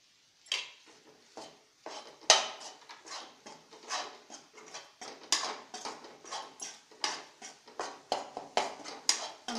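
A ladle scrapes and clanks quickly against a pan while stirring toast halwa made with unsweetened mawa, the hard strikes coming in a fast, steady rhythm close by.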